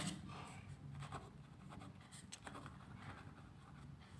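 A pen scratching across paper while math equations for a class 10 real numbers problem are written by hand, faint, close and continuous, with short strokes and pauses and no speech.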